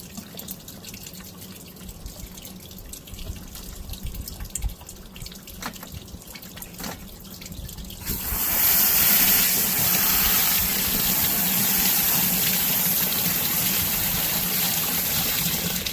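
A tumbler is rinsed under a running tap. Quieter drips and splashes come first, then the faucet opens fully into a loud, steady rush of water close by, with no voices.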